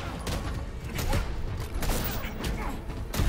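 Deadshot firing his guns in Injustice 2 at a tournament, a quick series of sharp gunshot bursts mixed with mechanical clanks and thuds from the fight, heard alongside game noise.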